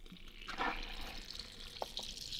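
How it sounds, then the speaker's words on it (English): Water is poured over a punctured Toyota Fortuner tyre, giving a soft, continuous splashing and trickling with a couple of brief knocks, quiet and without talking. "I'll pour water and show you."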